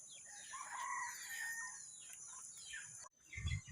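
A mixed-breed red jungle fowl rooster crows once in a faint, far drawn-out call over steady insect buzz, then a brief soft thump follows.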